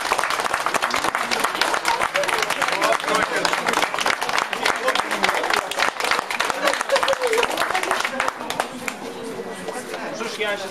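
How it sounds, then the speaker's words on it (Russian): Wedding guests applaud in a long, dense burst of clapping that stays loud and busy for about ten seconds, then begins to thin toward the end, with some crowd chatter underneath. "Друзья, под ваши продолжительные аплодисменты."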